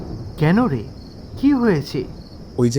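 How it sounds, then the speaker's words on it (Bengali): Crickets chirp at night as a steady high, faint background trill in a Bengali village horror audio drama, under close dramatic voices speaking in short bursts. "চারিদিকে ঝিঝি পোকার ডাক"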